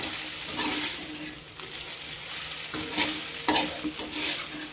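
Spicy rice is stir-fried with salt in a pan. Brisk scraping stirs come in repeated bursts over a continuous close sizzle.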